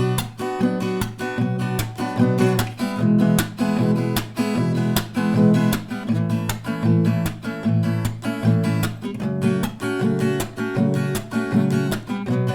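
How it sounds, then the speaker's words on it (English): Steady acoustic guitar strumming of a song, four strum rounds on each chord, loud and close with an even driving rhythm and crisp string attacks, played alone without any talking. "you're gonna play 4 strumming rounds per chord"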